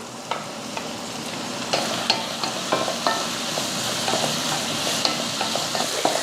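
Tomato and onions fry in a pan for chicken varuval, with a steady close sizzle broken by repeated sharp scraping stir strokes throughout.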